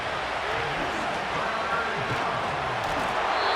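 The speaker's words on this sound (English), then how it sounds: "This is 3rd and 7 with a crowd on their feet" Stadium crowd in the Madden NFL 25 video game, a broad steady roar of fans on their feet, loud and continuous with no single voice standing out.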